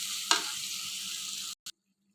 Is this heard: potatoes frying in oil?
yes